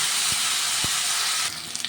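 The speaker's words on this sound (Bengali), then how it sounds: "এবারে আদা, রসুন আর কাঁচা লঙ্কা বাটাটা দিয়ে দিচ্ছি, এটাও সুন্দর করে ভাজাভাজি করবো" Ginger, garlic and green chili paste frying in hot oil, a steady loud sizzling hiss with a couple of soft knocks, dropping quieter near the end.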